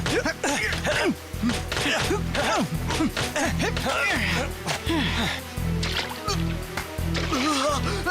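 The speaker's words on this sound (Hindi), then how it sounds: "तुम तो डुबकी लगा रहे हो" Cartoon water splash as a rider on a bicycle dives into water during a race in the anime Idaten Jump, with repeated splashy whooshes and sloshing under excited voices speaking.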